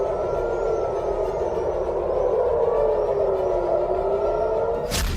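An air raid siren wails steadily, one long sustained tone that slowly sinks in pitch, ending in a sharp burst of noise.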